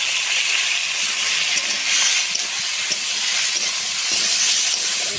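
Chopped papaya frying in oil in a pan, a loud, dense, steady hiss of sizzling that barely changes throughout, close up and alone without speech.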